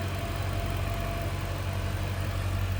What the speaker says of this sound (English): Supercharged V8.